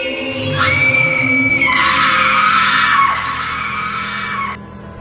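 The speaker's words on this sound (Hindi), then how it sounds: "तभी उसे एक औरत की चीख सुनाई दी।" A woman's scream in a horror story set in a graveyard: a loud, sustained high-pitched shriek rising and wavering for several seconds, tapering off near the end over a low dark background.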